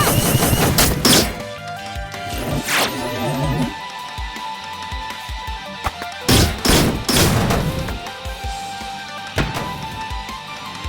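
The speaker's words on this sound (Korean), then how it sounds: "아틀러리 모드 발사." Artillery mode firing in the mobile game Last Origin: several loud, sharp booming blasts and crashes in bursts, with steady game music and effects underneath.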